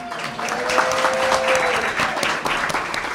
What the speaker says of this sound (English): say applaud for Ace